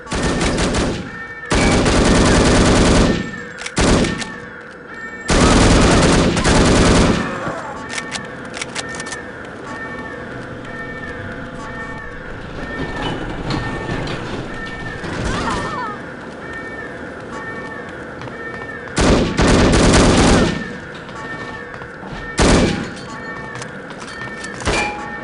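Gunfire in the No One Lives Forever shooter game, several loud sustained bursts of rapid shots separated by quieter stretches of ambient noise, with occasional speech.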